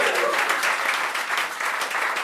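Sustained applause from an audience at a carnival café performance for a singer, a dense, steady clatter of many hands that stays loud and even from start to end.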